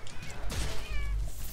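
A cat meows in the video game Monster Hunter: World. The call is short and fairly close, with a wavering pitch, over light background game sounds.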